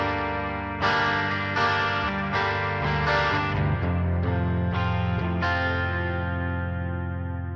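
An electric guitar riff heard as a clean DI signal together with the same signal processed through a Nano Cortex, giving a distorted tone. A series of picked notes and chords rings out clearly with no speech.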